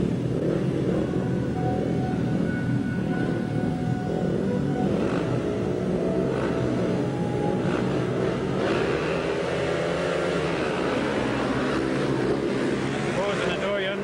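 Speedway motorcycles race in a 1991 meeting between the Glasgow Tigers and Hungary, a continuous engine drone with rising and falling revs under steady commentary and a distant crowd.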